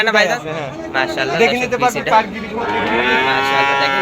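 A one-year-old Holstein Friesian bull at a cattle market lows in long, loud, harmonic moos, nearly continuous across the clip, while people talk nearby.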